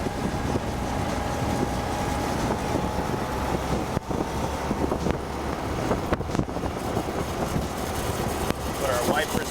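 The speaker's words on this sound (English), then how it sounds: "let me close this so you guys can not hear the wind" Steady wind rush roars through an open 1942 Willys Ford GPW jeep driving at about 30 mph, a constant loud broadband buffeting that fills the whole stretch.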